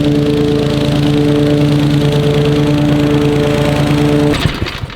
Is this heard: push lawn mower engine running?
yes